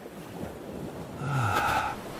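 Ocean waves in a narrated fairy tale roll in as a soft, continuous wash that swells near the end, with a faint gliding tone over it and no speech.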